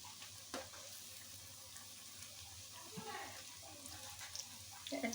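Cauliflower pakora fritters frying in hot oil, a steady soft sizzle running under the whole stretch with a few brief clinks and stirring touches, no voice over it.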